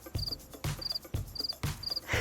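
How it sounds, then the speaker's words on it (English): Crickets chirp in short repeated bursts, four evenly spaced trills of high chirping over a faint soft ambient background, with no one speaking. "Crickets."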